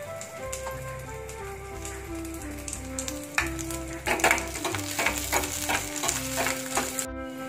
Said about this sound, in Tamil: இப்போ கரண்டில கொஞ்சம் நெய் விட்டுட்டு நம்ம பூண்டை நல்லா வதக்கிட்டு